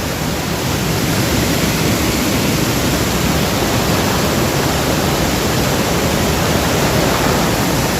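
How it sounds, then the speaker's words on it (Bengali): Strong stream of water rushing down near Cherrapunji, a loud, dense, unbroken roar of falling water filling the whole clip, with no voices. "এরকম লেভেলের স্রোত নামছে দেখুন।"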